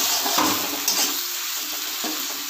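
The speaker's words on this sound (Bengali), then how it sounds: "এবার এরই সঙ্গে আমি ড্রাই ফ্রুটগুলো কাজু কিশমিশগুলো দিয়ে দিলাম," Cashews and raisins sizzle as they fry together in hot oil in a pan while making veg dal, with a steady hissing crackle and a few brief stirring scrapes, close and continuous.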